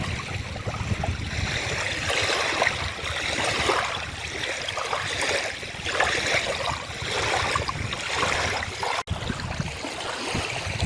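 Steady rushing of a river with wind gusting along the bank outdoors, a continuous broadband wash with slight swells and no speech.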